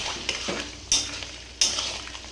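Spices, ground cumin and chili powder, being stirred and fried in a pan, with a spoon scraping and clinking against the metal in a few distinct strokes over a low, steady sizzle.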